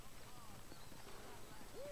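Horse hooves clip-clopping in Red Dead Redemption, a steady muffled trot sitting low under game ambience and a person talking over it.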